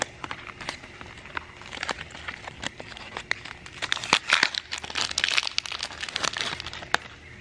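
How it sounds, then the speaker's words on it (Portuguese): A World Cup sticker packet being torn open and unwrapped: a steady run of close, crisp crinkling and tearing snaps that grows denser and louder midway, with no talking. "Vamos abrir o próximo pacotinho agora para ver o que que a gente descobre."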